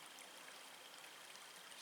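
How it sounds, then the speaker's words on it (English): Running water trickles steadily off rocks beside a wilderness camp in the morning, a soft continuous hiss with no voices, faint and even throughout. "we got a trickle of water over here to our left coming off the rocks"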